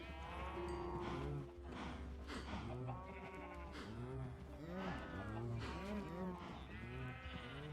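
Cows moo in the video game Minecraft, repeated low lowing calls overlapping one another in a crowded pen, with a voice talking faintly in between.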